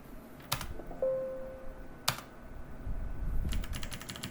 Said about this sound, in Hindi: और प्रेस कर दीजिए एंटर।